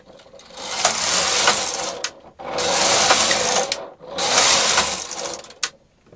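Knitmaster/Silver Reed knitting machine carriage sliding across the needle bed for three tuck stitch rows, each pass a loud, close mechanical whir and clatter with brief pauses between passes.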